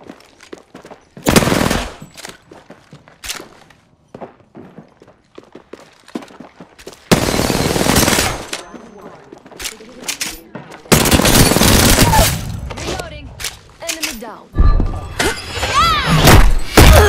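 Automatic gunfire from the Apex Legends video game, with bursts of rapid shots and heavy impacts that are loud and close, separated by short quieter gaps.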